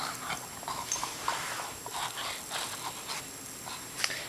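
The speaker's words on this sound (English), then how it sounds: "He's a little puppy." A nine-month-old puppy pants close by in quick, rhythmic breathy huffs, with no talking.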